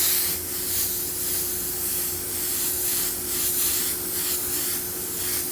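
An airbrush sprays a light coat of gray paint onto a stencil with a steady, even hiss that pulses slightly as the trigger eases and presses, heard alone and close.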